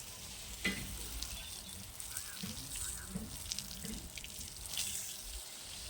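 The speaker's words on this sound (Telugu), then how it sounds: "నీళ్ళు ఇట్లా మొత్తం ముందు పట్టేసుకుంటామండి." Water from a pipe pours onto nursery plants in a steady splashing, gushing stream, fairly faint and continuous with small spatters, with no talk over it.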